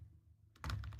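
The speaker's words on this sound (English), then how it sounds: "Pardon the typing, children." Typing on a computer keyboard: a quick run of soft key clicks starts after a quiet low hum, close but faint.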